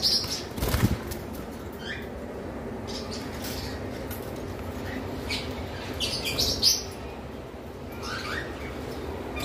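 Lovebirds at a pet bird market, bursts of wing flapping mixed with sharp high chirps and squawks over a busy background, with no talk.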